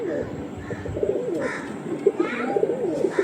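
Madras and Kalanka pigeons coo repeatedly in soft, rolling calls at close range, several birds overlapping over a low murmur of background noise.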